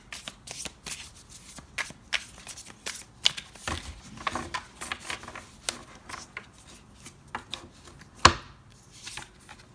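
Tarot cards being shuffled, pulled and handled close up, a run of sharp riffling slaps and flicks with quiet gaps between them and one louder snap near the end.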